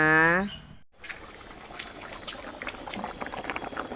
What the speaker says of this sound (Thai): ต้มน้ำที่สามแล้ว